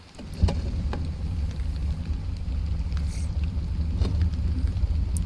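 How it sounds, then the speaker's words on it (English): A fishing boat's engine in the game Fishing Planet, on Saint Croix Lake: an abrupt start gives way to a steady low rumbling idle with light water and wind noise, close and continuous, no talk. "let's go ahead and get the engine started again"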